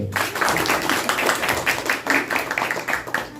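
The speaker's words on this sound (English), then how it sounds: "We'll give a round of applause" A crowd claps steadily throughout, a dense burst of applause from many hands at moderate loudness.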